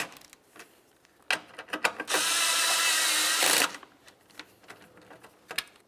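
A ratchet snugs up the radiator fan bolts on a 2012-2017 Toyota Camry: quick close clicks, then a sustained rapid ratcheting burst of about a second and a half, followed by a few more scattered clicks.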